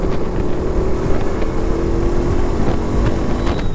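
A motorbike rides along an empty new road at night, its engine droning steadily with continuous rumble and road noise throughout, loud and close, with no talk.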